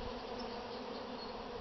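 Young nurse honey bees on a brood frame pulled from a hive while making a mini mating nuc with queen cells, giving a dense, steady, close buzz throughout.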